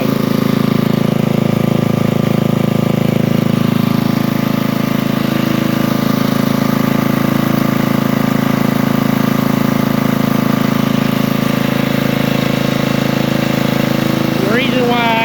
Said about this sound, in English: Right now there's nothing running, just the engine.